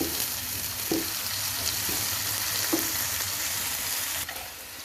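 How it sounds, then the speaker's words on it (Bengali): Whole cumin fries lightly in a pan for chicken khichuri, giving a steady, close sizzle with a few soft knocks from stirring and no speech. "এটা আমি হালকা করে ভাজতে থাকবো"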